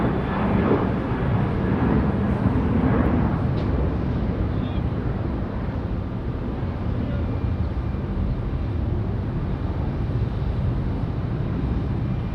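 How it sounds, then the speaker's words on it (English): A heavily loaded Boeing 737 jet takes off from RDU airport with a loud, continuous engine roar that gradually eases as it climbs away, with a voice talking over it at the start. "the 737 leaving a little on the heavy side there"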